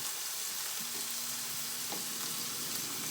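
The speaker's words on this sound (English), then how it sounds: "Now let's turn on the air fryer" An air fryer running in a home kitchen, giving a steady, loud, even hiss like sizzling air with a brief faint hum partway through and no voices.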